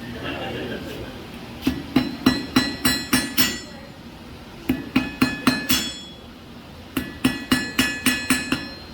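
A piece of steel used as an improvised hammer strikes metal while a taper is being forged, in three quick runs of about seven or eight sharp ringing blows, close and loud, with pauses between runs.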